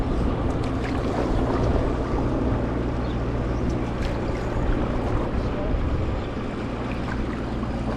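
A large boat churns by on the River Thames, a steady low engine drone and wash noise, with a faint voice murmuring underneath.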